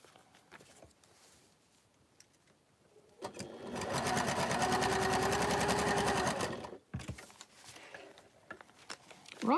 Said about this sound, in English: we've only got 1 more piece to sew after this